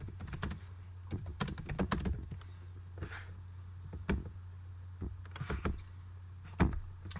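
Computer keys clatter in uneven bursts of close, crisp taps with short pauses between them, over a low steady hum.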